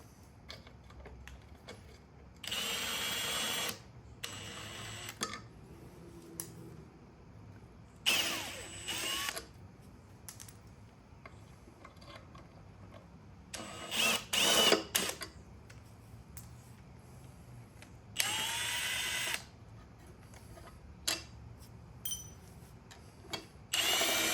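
Power tool zipping out LS1 engine timing cover bolts during an oil pump replacement, in several short, loud bursts separated by quieter handling and clinking, with no talking.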